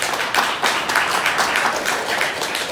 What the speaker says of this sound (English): So can y'all please give a round of applause?